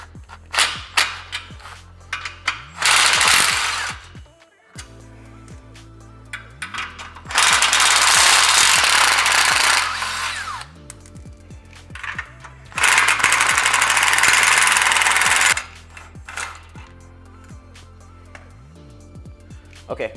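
A 14 mm ratchet working stud nuts off a Honda Civic downpipe, with rapid clicking ratchet bursts separated by quieter pauses and handling noises, alongside a low background hum.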